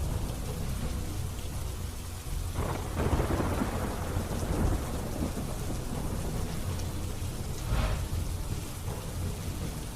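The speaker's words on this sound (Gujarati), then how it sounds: "તસવીરોમાં જોઈ શકાય છે ભાટિયા સહિતના વિસ્તારોમાં ધોધમાર વરસાદ પડ્યો હતો" Heavy monsoon downpour at night in Bhatia village, Kalyanpur taluka, Dwarka, Gujarat: a dense, continuous roar of rain with low rumbles of thunder swelling twice, no voices.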